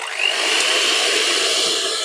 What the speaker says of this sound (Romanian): Și acum eu o să le bat cu mixerul.